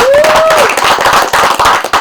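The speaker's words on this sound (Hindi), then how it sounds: "सो नाचेगा इंडिया टीम के लिए तालियां हो जाएं यार" Audience clapping for the Nachega India team at a dance show launch, brisk scattered claps from a crowd, close and loud, with a tonal whistle-like sound and voices briefly over the start.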